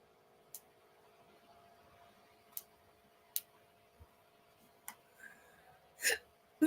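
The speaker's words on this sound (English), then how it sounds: "Ooh, I got hiccups." A person hiccups a few times, sharp brief bursts spaced irregularly and close by, with faint ticking clicks and low room hum in between; no talking.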